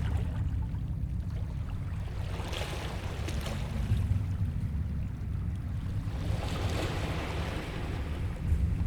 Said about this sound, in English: the wavelets washed the base of the Cyclopean monolith